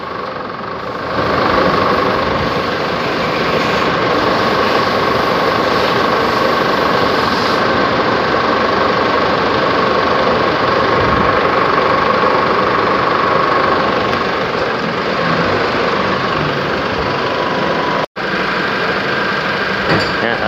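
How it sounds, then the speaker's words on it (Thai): Chevrolet Trailblazer engine idling steadily with the air conditioning on, a continuous loud rumble and hum with a fan-like hiss throughout, broken once by a brief dropout near the end; no talking. "เราได้สตาร์ทเครื่องนะครับ แล้วก็เปิดแอร์แล้วนะครับ"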